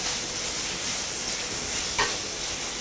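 Onions and small tomatoes frying in a pan for corn rava upma, giving a steady soft sizzle and hiss with a brief stirring clink midway, quiet and close.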